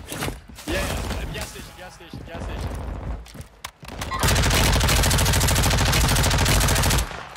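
Rapid automatic gunfire in Warzone solos, a sustained loud burst of shots near the end after scattered earlier fire, with players talking over parts of it.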